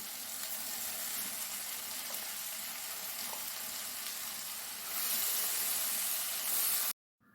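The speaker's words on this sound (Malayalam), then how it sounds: "കഴുകി ക്ലീനാക്കി വെച്ചിരിക്കുന്ന നെത്തോലി ഇട്ട് കൊടുക്കുകയാണ്" Anchovies, washed and cleaned, frying in a pan with a steady loud sizzle and hiss that swells louder for the last couple of seconds before cutting off abruptly.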